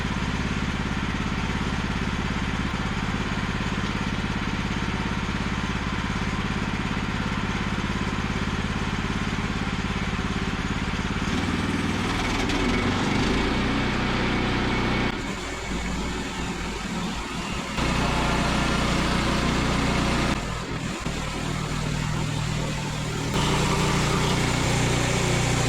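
A Woodland Mills sawmill engine runs steadily while resawing barn siding, a constant buzzing drone that later shifts in load and tone as the blade works through the boards, close and continuous with no talking.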